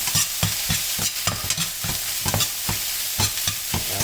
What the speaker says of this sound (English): I'm just going to start stir frying this around